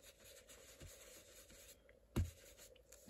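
A pen moves across the paper of a vintage Christmas folio while inking it over, giving soft faint scratching strokes and one sharper tap near the end, with no talking.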